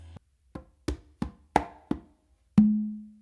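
A conga tumbao transition on a single drum: six sharp, evenly spaced strokes mixing bass, finger and slap sounds, then a ringing open tone that sustains and slowly fades, played alone with no talk.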